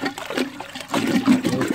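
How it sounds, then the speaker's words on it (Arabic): Water is stirred by hand while mixing a hydroponic nutrient solution, giving close sloshing and swirling splashes in uneven surges over a couple of seconds. "بعد ذلك نقوم بتحريك الماء"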